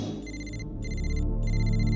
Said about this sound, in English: And my phone rang